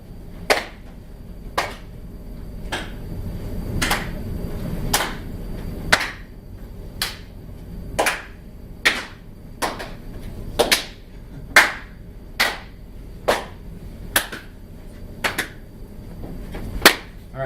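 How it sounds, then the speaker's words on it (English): People clapping in turn during a Pass the Clap improv exercise: single sharp claps at a fairly regular pace, roughly one a second, some slightly doubled, in a quiet room. "we're going to look at each other, and we're going to clap at the same time"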